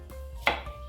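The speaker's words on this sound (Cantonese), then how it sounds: "呢個紅蘿蔔咧，而家係用一個比較簡單嘅切法嚟去切，就咁滾刀斜切" A knife makes a single sharp chop through a peeled carrot on a cutting board, using a slanted roll cut in a kitchen while preparing beef bourguignon; the cut is close and brief against a quiet background.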